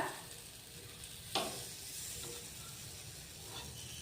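Beetroot slices sizzling on a tawa as they are turned, a steady soft frying hiss with a brief scrape or tap partway through, no talking.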